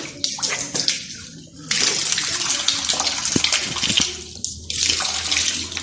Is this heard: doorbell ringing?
no